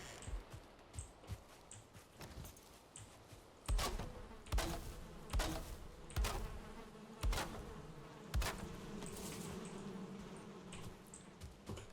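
Bees buzzing in the survival game Valheim, a steady insect drone under a string of sharp thumps and clicks from in-game activity, spread across the whole stretch with no talking.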